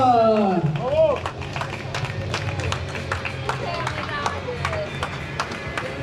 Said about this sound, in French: Allez, on peut l'applaudir bien fort.